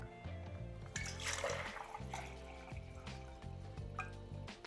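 Water is poured into a drip coffee maker, a running trickle and splash heard under music that carries on throughout.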